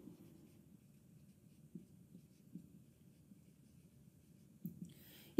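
Soft, faint scratching of a pen writing out a physics equation during a lecture, a quiet steady rustle with small taps between strokes and a sharper knock at the very end.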